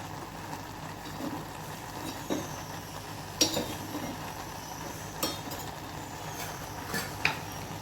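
Sprouted green peas are stirred in a pan with a spoon, giving scattered light scrapes and clinks against the metal over a steady low background, with no talking.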